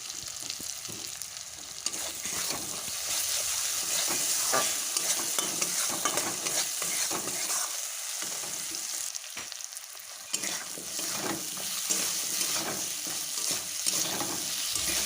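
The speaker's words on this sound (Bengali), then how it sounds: "কষানো হয়ে গেলেই ওর মধ্যেই কেটে রাখা লম্বা লম্বা করে আলু দিয়ে দিচ্ছি" Long-cut potatoes are stirred through spiced masala for a rupchanda fish curry, with constant close sizzling and frying hiss plus repeated scraping and shuffling of the spatula against the pan throughout.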